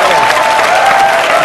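Audience at a comedy show bursts into loud, dense, sustained applause, close and continuous from start to finish, without any speech.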